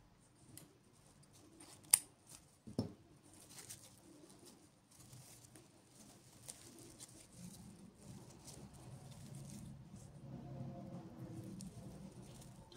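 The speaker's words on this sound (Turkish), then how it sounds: "ipimi kesiyorum" Scissors snip yarn while a hat is crocheted, giving a couple of sharp, close clicks early on amid faint rustling handling noise and a low background hum.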